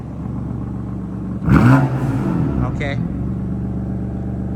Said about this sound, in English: Can you give us a couple revs?